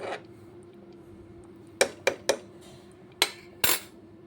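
Vegetable khichuri being served from a pot with a spoon: a quiet pause, then five sharp metallic clinks and scrapes of spoon against pot, close and distinct.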